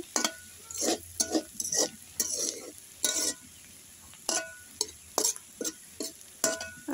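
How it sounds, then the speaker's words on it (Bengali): Bitter gourd and potato fry with prawns on a stove, a quiet background sizzle broken by repeated scraping strokes of a spatula against the pan at an irregular rhythm. "এখন আমি চুলার উপরে রেখে দিব আর একটু ভাজা ভাজা হবে"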